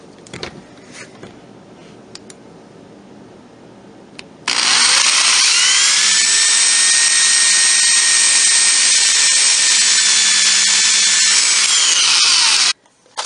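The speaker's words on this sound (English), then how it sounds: "I've marked for the pilot holes, which are going to be 1/8 inch." A power drill whirs steadily at high speed for about eight seconds drilling 1/8-inch pilot holes in wood, loud and close, starting abruptly after a quiet stretch and stopping sharply.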